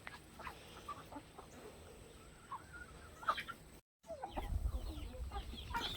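Chickens cluck and murmur softly among new baby birds and other farm critters, scattered calls over a quiet background, with a brief dropout followed by louder rustling and handling noise close by.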